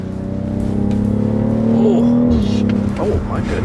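A BMW X3 SUV fitted with a Supra engine revs hard nearby, its loud droning exhaust rising and falling before a few sharp crackling pops as the throttle lifts.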